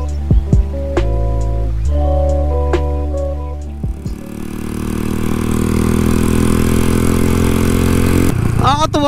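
Motorcycles pass during the Distinguished Gentleman's Ride in the Philippines, a steady engine drone with several passing bikes, nearby revving and rattles, and brief voices near the end.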